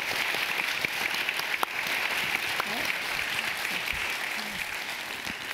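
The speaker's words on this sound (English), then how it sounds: "can we give him a round of applause for him?" An audience at a youth leadership and marine workforce panel event gives a sustained round of applause for a panelist, dense steady clapping filling the room, with faint voices mixed in.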